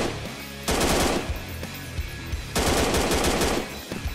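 M4 rifle gunfire in a dinosaur-hunting video game: two loud sustained bursts of rapid automatic fire, about two seconds each, separated by a brief lull, with no talk.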